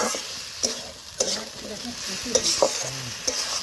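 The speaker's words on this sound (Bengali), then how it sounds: "আমি এখানে পেঁপে দিয়ে রান্না করছি এজন্য আমি একেবারে কষে বসাচ্ছি" Mutton and papaya stir-fry in a pan with a close, steady sizzle, punctuated by sharp clinks and scrapes of a spatula against the metal at irregular intervals.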